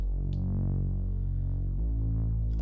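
A legato bass line from a Moog Sub 37 synthesizer plays steady and loud, sustained deep notes gliding into one another with a shift in pitch near the end, alone without talk.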